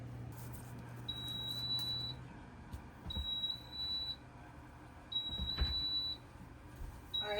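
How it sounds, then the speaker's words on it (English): Oven timer beeping when a custom water bottle finishes baking in a craft workshop, faint steady electronic tones repeating in spaced bursts over quiet room noise. "All right, it's beeping, so that means it's done."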